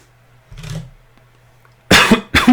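A single low cough sounds up close, followed a moment later by two sharper, louder bursts of coughing.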